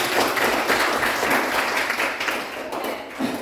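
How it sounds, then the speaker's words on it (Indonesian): A classroom of students applauds after a student's presentation, a dense, steady patter of many hands clapping at moderate volume that thins slightly toward the end. "tepuk tangan dulu Pak"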